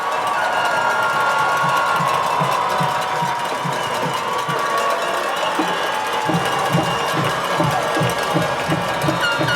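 A packed high school football stadium crowd cheers loudly at a John Curtis Christian Patriots versus Rummel Raiders game, with sustained shouting and a rhythmic, pounding drumbeat that strengthens in the second half.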